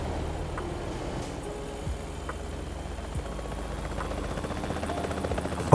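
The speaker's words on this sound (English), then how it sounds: "The helicopter blades kind of clipped through my truck" A helicopter's rotor drone in the video game American Truck Simulator fills the scene with a steady, engine-like thrum and faint thumps, no voices.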